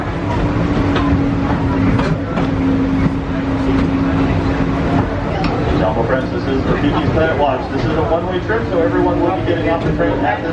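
A train rumbles and clatters steadily on the ride to Rafiki's Planet Watch at Walt Disney World, loud and continuous, with a recorded announcement and chatter from passengers over the running noise.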